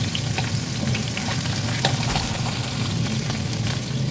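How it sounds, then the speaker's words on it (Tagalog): Russian kebab frying in hot oil, a steady loud sizzle and crackle of spattering oil that continues unbroken throughout with no voices. "Una, iprito muna natin ang ating kabab."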